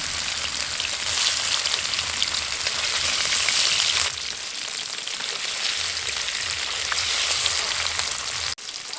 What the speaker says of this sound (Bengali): এখন একটা একটা করে পনিরের টুকরো দিয়ে ভেজে নেব